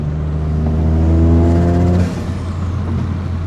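A Toyota GR Corolla fitted with a 2J-Racing exhaust, heard from inside the cabin with windows down, rises in a strong revving drone that peaks then drops off abruptly, leaving a lower steady rumble with some wind noise.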